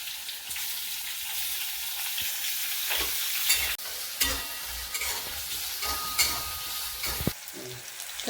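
Onion frying in a pan while being stirred, a dense close sizzle broken by repeated scraping and clattering spatula strokes, with no voices.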